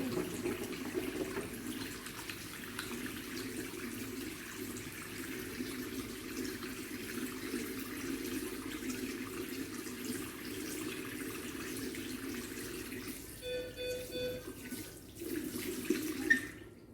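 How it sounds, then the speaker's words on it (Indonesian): Hands being washed with soap under a running tap at a sink, a steady hiss of flowing water lasting throughout, close and continuous, with brief light clinks and splashes near the end. "Cuci tangan dengan air mengalir dengan 7 langkah"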